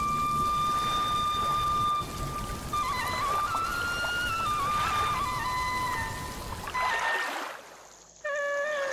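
Cartoon rain flooding a village hotel: a steady hiss of downpour runs beneath a tinkling musical melody, then drops away near the end as the music continues.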